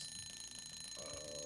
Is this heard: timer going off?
yes